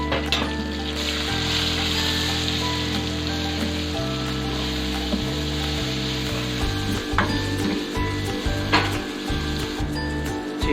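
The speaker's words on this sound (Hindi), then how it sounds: "अब इसमें टमाटर और ये जितने भी मसाला जाते हैं वो इसमें ऐड कर देंगे।" Tomatoes and masala sizzle loudly in a pan with browned onions for Sindhi biryani, a continuous close frying hiss broken by rhythmic stirring scrapes and no talk.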